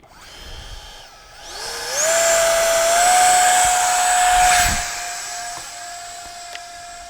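An Arrows RC T-33 50mm electric ducted-fan jet plane spools up to a loud, steady high-pitched whine. It holds close and constant for several seconds, then eases back slightly, with no voices.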